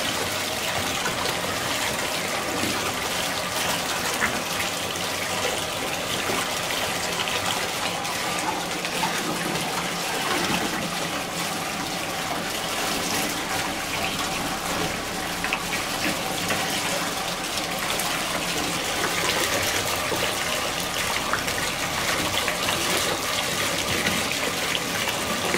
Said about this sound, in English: I am going to allow the water to completely fill up in the tub before I start making the bubbles